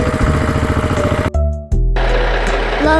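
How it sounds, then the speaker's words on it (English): A tractor engine chugs in a loud, close, rhythmic throb, then the sound drops out briefly and returns as a lower steady rumble. "tractor,"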